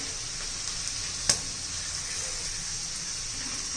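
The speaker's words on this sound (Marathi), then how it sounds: "छान असं मध्यम गॅसवर आपण तळून घेणार आहोत." Okra pieces for a crisp masala bhindi fry in oil over a medium gas flame, giving a steady, even sizzle with one brief sharp crackle or tap partway through.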